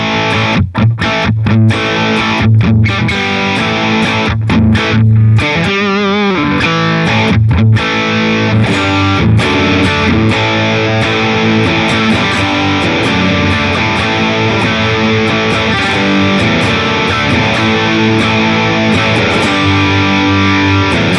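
Electric guitar played through a BIAS Desktop modeled amp with reverb switched off, a loud, dry crunchy tone with distortion, opening with choppy strummed chords and stops before settling into sustained ringing chords.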